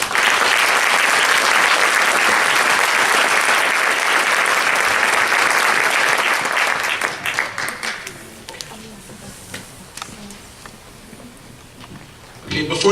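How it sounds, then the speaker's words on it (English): A school winter concert audience gives a full, loud round of applause for four standing honors orchestra students, sustained for several seconds before fading into scattered claps and room noise, with a brief swell at the end. "Just a round of applause."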